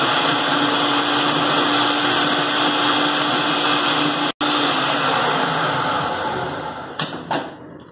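A blender grinds bread into breadcrumbs with a loud, steady high-pitched whirring roar, briefly cut off once, then winding down with rattles near the end.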